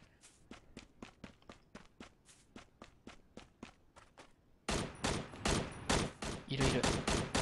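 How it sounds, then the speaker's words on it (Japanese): Gunfire in the battle-royale game Knives Out: a steady volley of sharp single shots at a moderate distance, then a louder, denser burst of rapid automatic fire. "マンションの方から銃声したね。"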